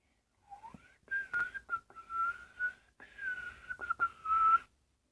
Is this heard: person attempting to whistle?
yes